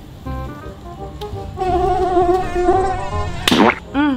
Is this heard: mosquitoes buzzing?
yes